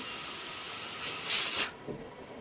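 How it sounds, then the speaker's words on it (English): Steam hissing from the vent of a pressure canner on a Camp Chef stove while fish is being pressure canned, a steady broadband rush that swells louder before cutting off abruptly, followed by a faint brief sound. "You wait 15 to 20 minutes until you see a steady stream of steam coming up from this vent."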